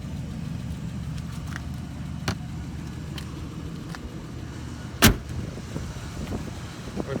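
A 1986 Cadillac Fleetwood Brougham engine idles at a low, steady rumble, with a few faint clicks and one sharp knock partway through, and no talking.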